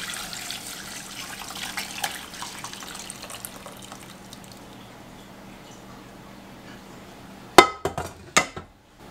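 Hot vegetable broth strained from an Instant Pot pours as a soft, steady watery rush for the first few seconds. A few sharp metallic clanks of pot and strainer follow near the end. No one speaks.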